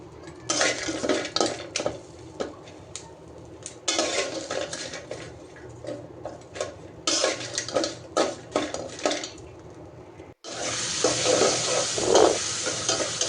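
Dried fish and garlic fry together in a pan, loud bursts of sizzling and metal-on-pan scraping in repeated waves of stirring, then a brief pause before a sustained, brighter crackle of frying.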